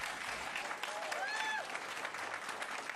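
Steady applause from an audience at a county commission public meeting follows a resident's comment, a dense, even wash of clapping lasting the whole stretch, with a brief faint voice rising over it partway through.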